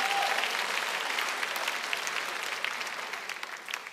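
An audience breaks into loud, sustained applause that gradually tapers off, with many hands clapping in a dense wash of sound.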